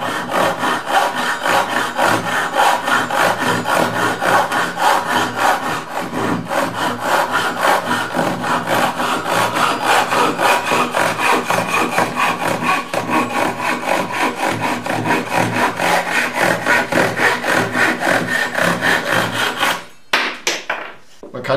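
A hand saw cuts through wood in quick, regular back-and-forth strokes, close and loud for about twenty seconds before the rasping abruptly stops.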